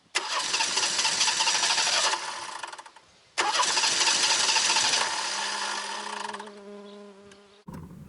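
A 1989 Ford Mustang engine cranks and starts for the first time in eight years, running loud and rough with a long steady roar, a brief cutout near three seconds, then catching again and settling to a lower idle.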